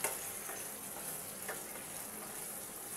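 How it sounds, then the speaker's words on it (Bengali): Okra and rohu fish curry frying in a pan, a steady soft sizzle with faint scraping as it is stirred, with no talk. "আবার একটু নাড়াচাড়া করে দিতেছি।"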